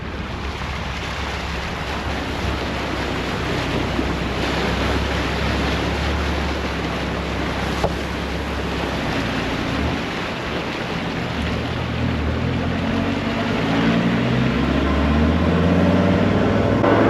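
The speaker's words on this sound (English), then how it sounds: "Straight into it with another water crossing this morning." A vehicle fords a flowing river crossing on the Gibb River Road, with steady broad rushing water and wash that swells louder in the later part of the clip, under a low engine rumble and no talk.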